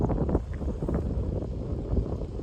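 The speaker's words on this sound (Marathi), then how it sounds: "वारा बघा कसला सुटलाय" Strong wind sweeps across an open clearing at a campsite in dense forest, a continuous roaring rush with gusty swells that buffet the microphone, with no speech.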